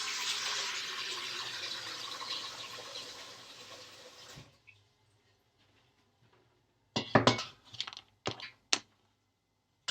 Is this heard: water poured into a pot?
yes